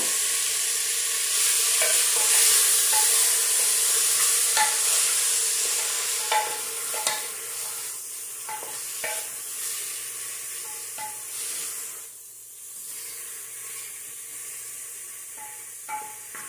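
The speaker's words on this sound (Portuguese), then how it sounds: "E fritar aqui dentro a carne." Beef ribs fry with garlic in a pot, giving a bright, even sizzle, broken by a series of spoon taps and scrapes that thin out as the frying calms.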